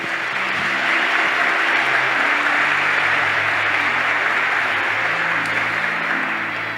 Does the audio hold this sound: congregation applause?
yes